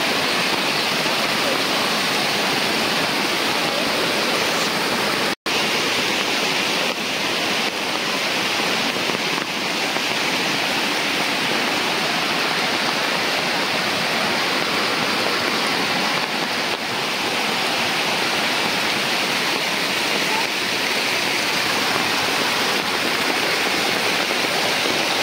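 A fast-flowing village river rushes with a constant broad wash of water, loud and close, with occasional voices over it and one sharp knock early on.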